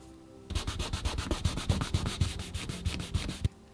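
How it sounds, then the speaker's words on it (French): A leather edge is burnished and polished with Tokonole, a quick regular series of about twenty close rubbing strokes over three seconds. "je fais une petite finition de tranche à l'intérieur, en passant la bacarre et en la lustrant au toconol"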